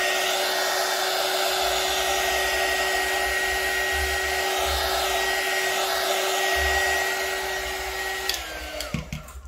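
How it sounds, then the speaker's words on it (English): A heat gun blows over a tropical leaf resin tray with stones, a loud steady close whooshing whine that runs continuously, then cuts off near the end, followed by a few light knocks. "I'm gonna hit it with my heat gun just really quick."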